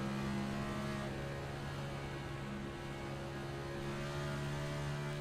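A race car engine holds a steady, light drone as it climbs the hill at Watkins Glen, the sound continuous and fairly distant with sustained tonal hum and no audible revving peaks.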